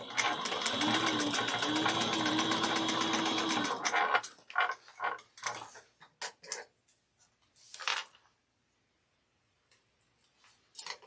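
A sewing machine stitches a Kandu bag at a 3/8-inch seam, running in one continuous whirring burst for about four seconds, then stopping; scattered clicks and soft handling noises follow close by.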